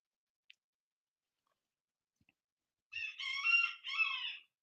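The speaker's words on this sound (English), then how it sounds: "Sorry about the rooster." A rooster crows once, loud and fairly close, after a few seconds of near silence broken only by faint ticks.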